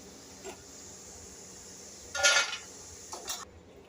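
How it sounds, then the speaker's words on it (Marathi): Fried cheese namakpare being lifted out and dropped onto a plate: a few short clattering bursts of pieces and utensil against the dish over faint background frying. "हे बघा आता आपण हे काढून घेऊयात एका प्लेटमध्ये"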